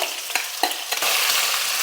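A steady, loud sizzle of onion paste frying in a hot pan for fish curry, with a few brief stirring scrapes early on before the hiss settles into a continuous roar.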